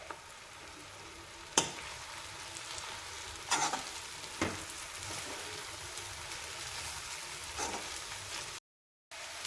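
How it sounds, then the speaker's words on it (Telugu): Tomato rice is stirred in a pan over high flame, with a continuous close sizzle and occasional sharp scrapes and clacks of the spoon against the pan. "హై ఫ్లేమ్లో పెట్టి బాగా కలుపుకోవాలి"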